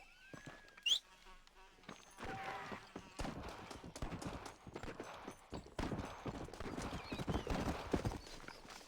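Horse hooves clip-clopping in the Red Dead Redemption video game, a steady rhythmic walking gait of close hoofbeats with a brief neigh near the start and faint background sounds.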